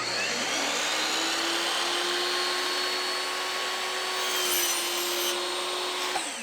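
A power saw whines steadily through a peel-and-stick wood wall plank for several seconds, its pitch dropping slightly near the end as the cut finishes. Close and loud.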